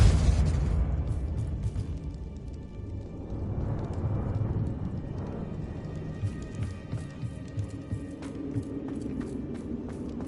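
A Confringo blasting spell goes off in the video game Hogwarts Legacy, an opening muffled boom that fades into crackling, pattering debris over low rumbling game noise.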